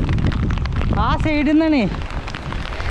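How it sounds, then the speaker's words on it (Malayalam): Heavy rain hisses steadily around a cyclist on a Kerala-to-Kashmir bicycle trip, a dense continuous wash of rain and wind, with someone speaking briefly in the middle. "നല്ല മഴ."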